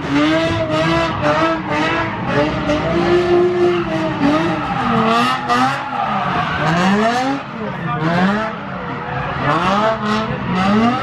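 Infiniti G35 drifting on a skid pad at a motorsport ranch, tires squealing in long, wavering howls over a loud revving engine, sustained throughout with brief talk.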